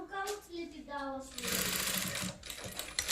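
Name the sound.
sewing machine stitching blouse and piping fabric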